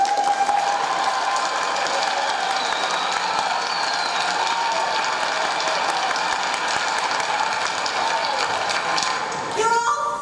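Audience applause in a church murder-mystery play, a long dense roar of clapping from the crowd filling the room, loud and unbroken, cutting off abruptly near the end as a voice begins.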